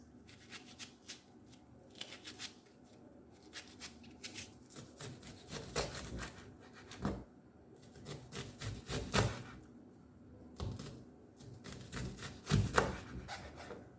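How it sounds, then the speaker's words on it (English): A knife slices onions, making a long run of short, crisp cutting strokes. The strokes come close up in an uneven rhythm, sometimes in quick clusters and sometimes after brief pauses, with no talking. "Slice the onions."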